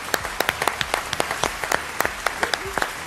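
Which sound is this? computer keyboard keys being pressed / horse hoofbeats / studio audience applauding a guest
studio audience applauding a guest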